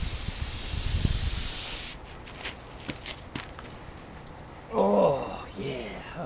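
An aerosol can sprays paint onto Suzuki GSX-R 1000 track bodywork outdoors in snow, a loud close hiss for about two seconds, then quiet with light shuffling and a brief burst of talk.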